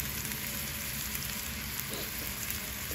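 Tomatoes cooking down in a pan in a home kitchen in Riyadh, giving a steady, close sizzle and crackle of frying that runs unbroken throughout, with no talk over it.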